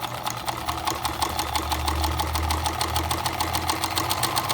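A domestic sewing machine stitches a small zigzag with a fast, regular mechanical chatter and a motor hum underneath, close and steady throughout.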